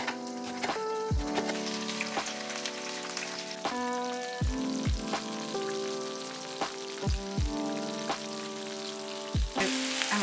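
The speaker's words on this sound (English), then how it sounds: "I'm going to pan fry the squash and the eggplant" Squash and eggplant pan fry for a lunch bowl, crackling and sizzling steadily at moderate volume, with a few sharp clinks and taps of a utensil against the pan scattered throughout.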